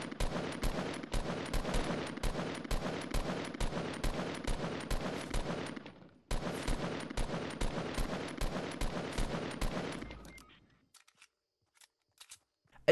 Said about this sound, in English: just shoot up at my friend's parachute